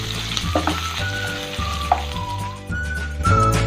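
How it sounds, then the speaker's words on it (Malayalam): Long-sliced onion and chopped green chilli fry in a pan as they brown, a loud, close, steady sizzle with stirring scrapes and clacks, and a faint whistling tone in the background. "ഇപ്പോൾ സവാളയൊക്കെ നന്നായി മൂത്ത് വന്നിട്ടുണ്ട്"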